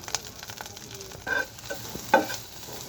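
A soft sizzle of frying in a pan with a few sharp stirring clinks and scrapes, quiet and close.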